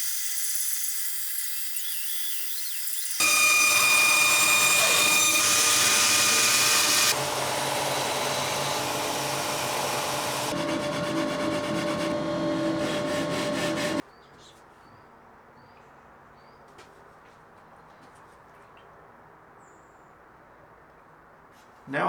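A power saw cuts a guitar fingerboard taped to scrap MDF, with a loud, steady whine that shifts pitch across a few passes over about eleven seconds before dropping to quiet room noise.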